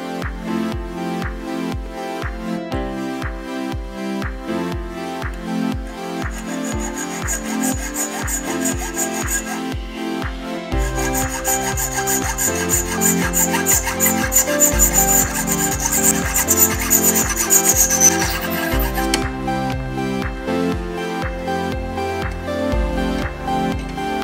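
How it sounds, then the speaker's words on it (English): A hacksaw cutting metal bolts down to 12mm, steady back-and-forth rasping strokes in a regular rhythm, close and fairly loud, growing harsher and brighter midway, with no talk. "what I'm going to do is to trim them down to 12mm using the hacksaw"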